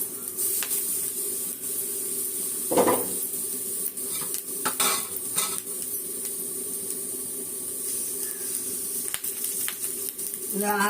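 Curry leaves, tomato and onion sautéing in a pan with a soft continuous sizzle, broken by clinks and scrapes of a utensil against the pan.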